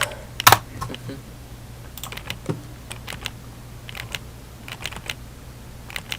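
Keys pressed on a computer keyboard, with one sharp loud click followed by scattered lighter taps and clicks at irregular intervals over a low steady hum.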